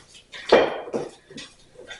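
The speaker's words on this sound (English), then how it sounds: "You're just going to mix this up." Herb tuna salad with capers and Dijon mustard is stirred in a bowl, giving a few short, close scraping and clinking strokes of a utensil against the dish with brief pauses between them.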